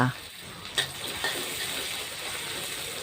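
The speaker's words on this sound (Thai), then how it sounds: "เจียวกับน้ำมันให้หอม แล้วก็เอาสามชั้นสไลด์เนี่ย ลงไป ผัด ก่อนเลยค่ะ" Sliced pork belly stir-frying in hot oil with crushed garlic, a steady close sizzle and hiss throughout, with a brief metallic clink of the spatula near the start.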